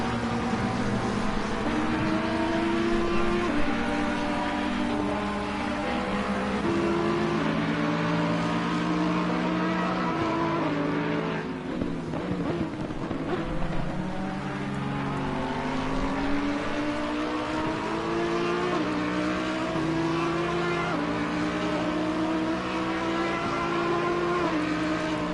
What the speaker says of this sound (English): 51 Ferrari and the 909 Mercedes crossing the line.